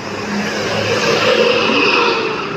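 A bus on an Indonesian road accelerates hard, a steady loud engine roar that builds and holds throughout with broad road noise, no voices over it.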